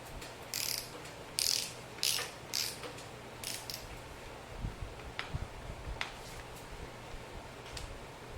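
A torque wrench ratchets spark plugs into the aluminum head of a 2007 Ford Focus 2.0, giving several bursts of close clicking with short pauses, then a few faint taps.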